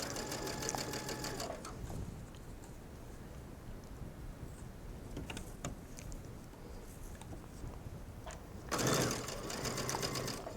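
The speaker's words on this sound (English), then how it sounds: "I'm stitching just on that folded edge" Sewing machine running steady stitching along the folded edge of a stretchy mesh sleeve hem, with a dense whirring burst at the start, quieter mechanical ticking and handling through the middle, and another loud run near the end.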